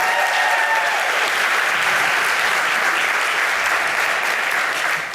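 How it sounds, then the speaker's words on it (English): A crowd at a Jacksonville talent exhibition applauds a bestselling author's book with loud, sustained clapping that stays full and even from start to finish. "We can give a round of applause for that"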